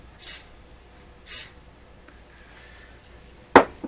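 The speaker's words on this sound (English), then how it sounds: "Okay, so I'm going to spray it in there. It's kind of just coming out of a can." Two short hissing bursts of spray from an aerosol can aimed into the mechanism of a Pye Columbia Stereo 360, each about a third of a second long, followed by a sharp click near the end.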